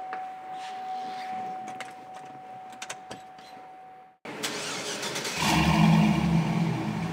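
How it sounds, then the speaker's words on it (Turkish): Quiet clicks and rustles, then a Chevrolet SSR V8 engine turns over abruptly and settles into a loud, steady, low idle with a slight surge. "Hatta bunu yapmak için motorumuzu da çalıştırmamız gerekiyor."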